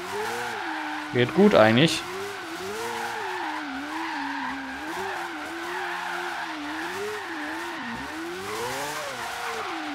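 A car in Forza Horizon 3 drifts tightly around a small roundabout, with a brief loud burst of tire squeal and skidding over a steady engine drone. Someone talks briefly.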